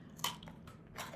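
A couple of faint, close crunches as someone bites into twice-baked biscuits dunked in iced coffee, quick crisp snaps over quiet room tone with no talking.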